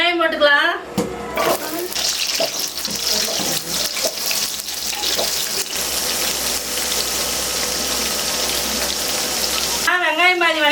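Onions frying in a kadai for a Tamil-style chicken curry, a steady broadband sizzle that holds close and loud for about nine seconds, with brief speech at the start and end.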